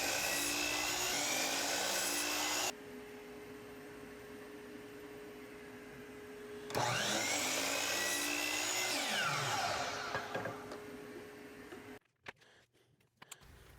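A power saw cuts wooden paint stirring sticks into short pieces: a loud, close, high whining motor runs, drops in pitch as it spins down, then revs up and bites again, followed by a few brief knocks as it stops.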